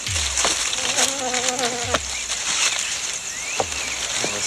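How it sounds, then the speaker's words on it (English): Insects whine and buzz around a swampy spot, a thin high drone with a few passes rising and falling, broken by dull thuds and rustling movement. "Oh, this place is full of mosquitoes."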